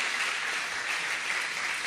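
Steady, dense applause from a poetry reading audience fills the room, an even wash of many hands clapping without pause, with no voices above it.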